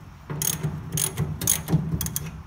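Ratchet wrench with a 9/16 inch socket loosening a nut on a New Holland baler, a close series of quick clicking ratchet strokes in several short bursts over about two seconds, with no talking.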